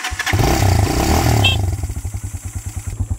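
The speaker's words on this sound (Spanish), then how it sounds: "Pero nosotros vamos aquí por la calle, por lo que vamos en moto." A motorcycle carrying riders along a street toward the Torola river revs, then pulls away with a loud, close, pulsing engine putter that settles into a steady rhythm.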